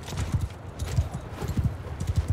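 Horse hooves clatter in a quick galloping rhythm in the video game Mount & Blade II: Bannerlord with the Old Realms mod, repeated thudding clip-clop beats up close with a faint whinny-like texture behind.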